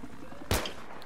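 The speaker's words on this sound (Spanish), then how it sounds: "Al del helicóptero le estoy disparando." A single sharp gunshot bursts out in the Battlefield 3 video game during an attack on a helicopter, loud and brief over a steady background rumble of game ambience.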